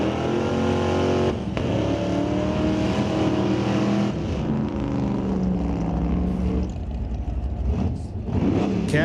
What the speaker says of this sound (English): Lined up next to Ray Bollinger, 1963 Pontiac Parisienne. Pontiac powered by a 355 Chevy.